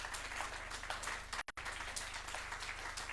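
An audience applauds at the official launch ceremony of a national week's third edition, a steady wash of clapping from a crowd that briefly cuts out midway, then resumes at an even level.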